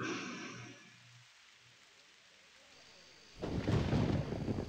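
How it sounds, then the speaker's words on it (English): Quiet steady hiss of rain for a few seconds, then a sudden loud rush of heavier, closer rain or downpour noise that continues to the end. "It's raining."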